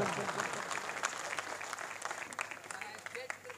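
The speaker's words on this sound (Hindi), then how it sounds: "सारे लोग ताली बजाकर निकत को बताएं क्या आप उन्हें सुन रहे हैं" Applause from the audience at an All India Mushaira in Siwan, Bihar, a continuous patter of many hands clapping in a large gathering, with voices faintly mixed in.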